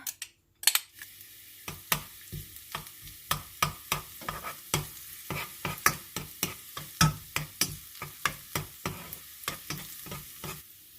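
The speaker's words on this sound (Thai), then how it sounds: "พอกระทะร้อนก็ใส่กระเทียมลงไปเจียวให้หอมนะคะ" Sharp, irregular clicks and pops crackle over a steady hiss as garlic fries in hot vegetable oil in a pan, close and fairly loud with no talking.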